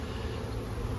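A close, steady drone of honeybees working at the hive, a continuous dense buzz with no pauses.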